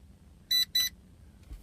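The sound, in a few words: Metakoo Q323 quadcopter controller beeping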